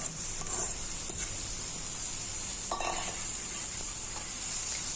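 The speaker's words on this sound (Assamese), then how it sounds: "আৰু ভালকে ভাজি ল'ব অলপমান টাইম" Leafy greens fry in a pan with a constant bright hiss, broken by a couple of soft stirring scrapes, with no talk.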